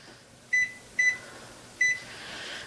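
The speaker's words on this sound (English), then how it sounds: "timer for half an hour" An oven timer gives three short, crisp beeps while being set, the first two close together and the third after a longer pause, over a quiet room hum.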